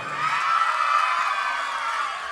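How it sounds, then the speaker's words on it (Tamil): An audience at an orchestra song performance cheers and claps together in a dense, steady wash of noise that stays loud and even from start to finish. "நல்ல பலத்த கரகோஷம் கைத்தட்டு கொடுங்க அவங்களுக்கு"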